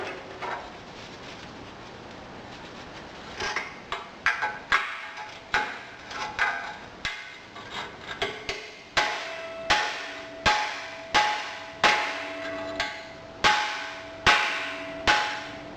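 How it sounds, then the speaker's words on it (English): A hammer strikes a cast iron wedge test poured from a melted disc brake rotor, a series of sharp ringing metallic blows, sparse at first, then evenly spaced and louder, each with a short clanging decay. "Did you count how many times I had to hit that wedge test with the hammer?"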